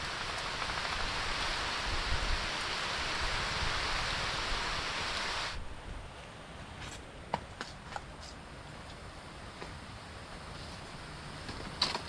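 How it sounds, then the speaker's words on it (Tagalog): Heavy rain pours in a dense, steady hiss for several seconds, then eases into softer patter with scattered drips and light knocks. "ang lakas na naman ng ulan"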